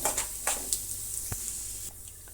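Mustard seeds, chana dal and urad dal frying in hot oil for a hotel-style chutney tempering, giving a soft, steady sizzle with a few small crackles and pops, fairly faint and without talk.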